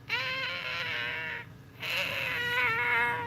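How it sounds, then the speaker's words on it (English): A cat gives two long, drawn-out meows, loud and close, separated by a short pause, insistent and whiny in tone. "But Oreo, he cries and cries for food in the morning."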